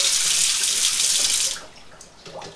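Water is poured off a pot of boiled eggs into a sink, a steady splashing gush for about a second and a half that stops abruptly, followed by a few faint drips and clinks.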